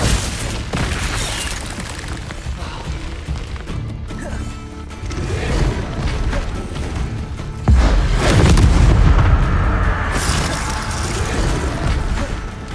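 Spell blasts in the video game Hogwarts Legacy, with a run of booming, crashing impacts in dense, loud succession and a heavier burst partway through, with no talk.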